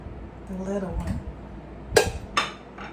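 Metal cake pans for a confectioners' sugar pound cake, handled while the cake comes out of the oven: a voice speaks briefly at first, then two sharp metallic clanks ring out close by, followed by a fainter knock.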